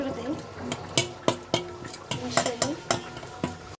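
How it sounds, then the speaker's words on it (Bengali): Cumin paste goes into meat cooking in a pot, heard as a run of close, irregular spoon clinks and scrapes against the pot over a soft sizzle. "এখন জিরা বাটাটা করে দিই।"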